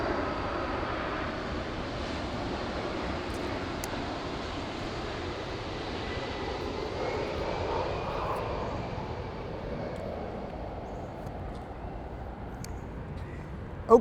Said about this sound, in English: All right, airplanes are above. JFK is almost stone's throw away.